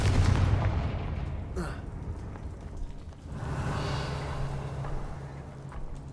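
Confringo explosion spell in the video game Hogwarts Legacy: a rumbling blast, then a sharp crack, then a second roaring burst that lingers, with no voices.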